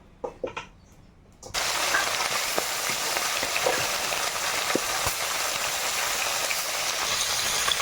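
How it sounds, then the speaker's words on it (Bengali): Parshe fish dropped into hot oil in a wok, a few soft knocks first, then a sudden loud steady sizzle with crackles that keeps going. "এদিকে কড়াই বসিয়েছি গরম হয়ে গেছে তেল দিয়ে দেব মাছগুলো ভাজা শুরু করি"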